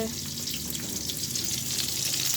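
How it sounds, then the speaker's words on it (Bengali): Eggplant fries in a pan with a soft, continuous sizzle and crackle, fairly quiet and close. "বেগুন ভাজা হচ্ছে"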